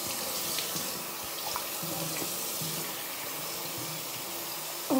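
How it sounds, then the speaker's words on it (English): Warm water runs steadily from a bathroom tap while someone washes their face, a continuous even splashing hiss at moderate level, with a brief louder splash at the very end. "Okay, I will wash my face with warm water."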